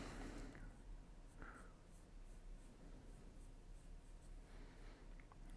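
Pencil sketching on paper while drawing a face, soft scratchy strokes in short irregular bursts, close and quiet with no talking.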